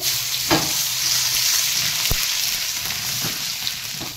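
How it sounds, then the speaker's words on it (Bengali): Cumin, dried chilli, cardamom and garlic fry in hot oil with a steady, close sizzle throughout, broken by a few sharp clicks and stirring taps of a spoon in the pan. "এই শুকনো লঙ্কা আর এলাচ একটু ফোড়ন দিয়ে দেব। এই রসুনটা দিয়ে দেব।"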